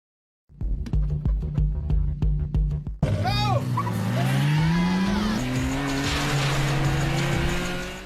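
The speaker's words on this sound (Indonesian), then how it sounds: "Nissan GT-R yang unggul speed di jalan lurus meninggalkan Toyota AE86 milik Takumi" A Nissan GT-R and a Toyota AE86 racing in an anime film: loud engines revving, a few clicks, then screeching tires and a rising engine roar sustained close up.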